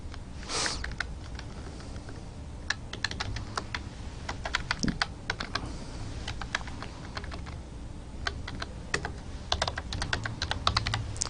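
Code being typed on a computer keyboard for a C++ program, steady irregular clacking keystrokes at close range, with occasional louder key hits and no talking.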